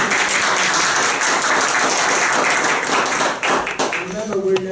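Audience at a club meeting claps steadily and loudly throughout, a dense continuous applause that tapers slightly at the end as a voice begins speaking.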